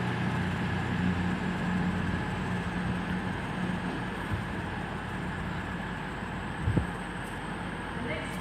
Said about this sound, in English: departing out now is 222004 and that's on the 10:28 service to Sheffield from London St Pancras